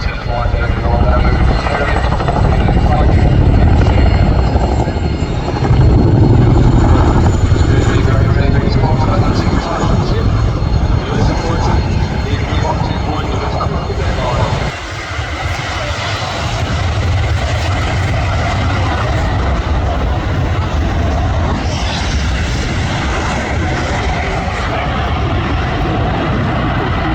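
Aircraft engines at the Royal International Air Tattoo, with a Royal Air Force Aerobatic Team display flying overhead: a loud, continuous roar that swells and fades slightly, while a voice talks over it throughout.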